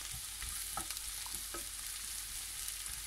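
Mushrooms frying in hot cooking oil on a high burner, a steady sizzle throughout with a few scraping stir sounds at a close distance and no talking.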